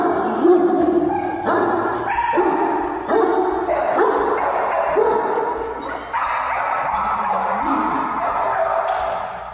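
A dog at a personal protection consultation barks and yips continuously and excitedly, mixed with a person talking over the noise throughout.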